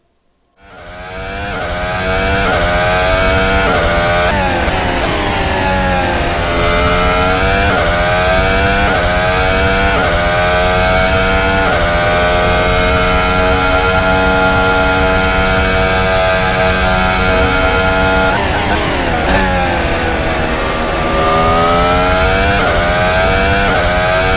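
A race car engine in the Assetto Corsa sim drives around a track, screaming loud and close. Its pitch climbs steadily through the gears, with sharp drops at the shifts and braking before it revs back up, and no voices are heard.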